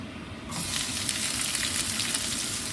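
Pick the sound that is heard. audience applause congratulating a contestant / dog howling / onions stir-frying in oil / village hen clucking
onions stir-frying in oil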